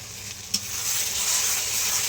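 Spices with turmeric, salt and meat masala fry in a pan as they are stirred, a steady bright sizzle with one soft knock near the start; no voices.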